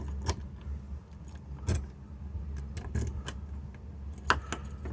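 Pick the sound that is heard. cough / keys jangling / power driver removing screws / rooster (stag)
keys jangling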